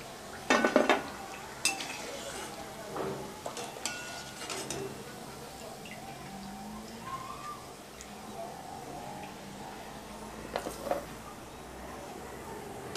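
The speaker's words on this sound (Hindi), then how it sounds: "अब इसके हम निकाल लेते हैं एक बर्तन में, टिश्यू पेपर लगा देते हैं" Fried methi mathri is lifted from an oil-filled kadhai into a utensil lined with tissue paper, making sharp metal clinks and scrapes, loudest at the start and then sparse and quieter.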